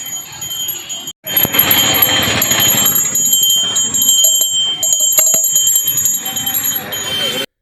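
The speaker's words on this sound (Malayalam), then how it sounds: "ചട്ടിയുമെടുത്ത് മണിമുട്ടിയാണ് ജീവനക്കാർ നടന്നത്" Pariyaram Medical College employees ring hand bells and carry pots in a begging-style street protest; metallic bell strikes ring out repeatedly, mixed with talking and general crowd noise.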